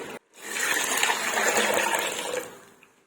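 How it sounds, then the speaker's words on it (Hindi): Milk pours steadily into softened vermicelli for a sweet Eid sheer khurma, a continuous close liquid gush lasting about two seconds after a brief pause, then trailing off. "तो अब हम इसमें डालेंगे दूध।"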